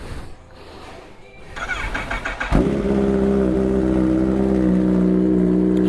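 A supercharged Kawasaki Z H2 motorcycle with an Austin Racing exhaust is cold-started after sitting a week: a brief starter whir, then the engine catches and settles into a loud, steady idle.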